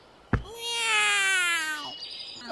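A cartoon cat gives a single loud, drawn-out meow that rises and then falls away, heard close and alone.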